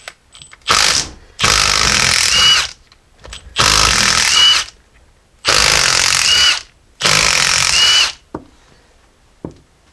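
A power drill or impact tool spins off four 9/16 bolts from a Jeep Saginaw steering gear box, four loud sustained whirring bursts separated by short pauses with small clicks between.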